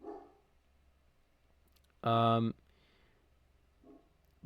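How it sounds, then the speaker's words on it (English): A dog gives one loud, close bark between stretches of quiet, with faint bits of speech at the start and near the end. "As my dog starts barking."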